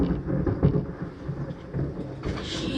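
Thunder rolls in a low, rumbling wash during a 2019 hurricane, with steady rain noise and no talk.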